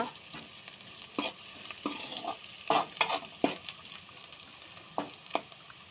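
Meal maker soya chunks frying in a pan for curry, a continuous sizzle punctuated by repeated spatula scrapes and taps, close up and moderately loud.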